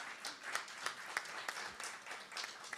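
Audience at an alumni meet-and-greet clapping, a modest scattered round of hand claps with individual sharp claps standing out, fairly faint and distant.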